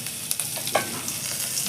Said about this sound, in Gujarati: થોડુંક આપણે આ લીલા મરચાંની કટકી નાખી દેવી, એક ટૂંકો લીમડો નાખી દેવી